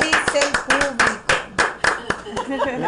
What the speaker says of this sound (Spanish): Aplaudan. ¡Aplausos!